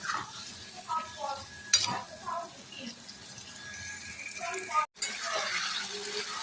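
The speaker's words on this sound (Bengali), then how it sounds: "দিয়ে ভালো করে মশলাটা একটু কষিয়ে নেবো" Potatoes sautéing with spices and tomato in a pan for a vegetarian curry, a moderate sizzle with clinking stirs, a sharp knock, and a brief cut to silence near the end.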